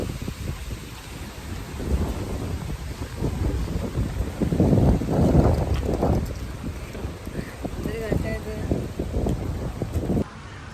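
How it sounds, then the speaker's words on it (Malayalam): Strong wind blows outdoors near a home in Germany, a heavy low rumbling buffet that surges and swells across the microphone, loudest midway before easing off near the end. "ഒരു രക്ഷയില്ലാത്ത കാറ്റ്."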